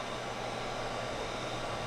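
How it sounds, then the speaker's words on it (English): A heat gun blows steadily while shrinking protective heat shrink tubing over a crimped subwoofer amplifier power terminal, giving a constant faint, even airy hiss with a low hum beneath it. "So now we can apply a protective heat shrink."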